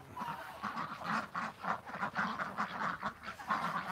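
A flock of ducks quacks rapidly and continuously in a pen as a dog herds them, a busy, moderately quiet chorus of overlapping calls.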